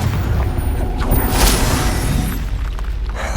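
A Confringo blasting spell goes off in Hogwarts Legacy, a loud explosive burst with a shattering crack around the midpoint, set against a dense rumbling game soundscape that continues throughout.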